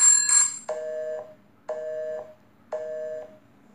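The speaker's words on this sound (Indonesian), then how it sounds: "Waduh, ada telepon." An old telephone rings in the horror video game Headaches: three separate electronic ring bursts, each roughly half a second long, arrive at an even pace after a shorter, brighter tone, loud and clear with no talk over them.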